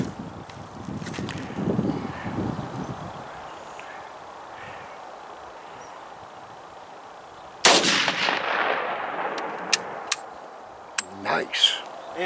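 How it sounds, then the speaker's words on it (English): Single rifle shot from a 30-40 Krag fired outdoors at a range, a sharp loud crack with a trailing echo after a quiet stretch, followed by a few metallic clicks and clatters. "We got 1 shot left with this 30-40 Craig."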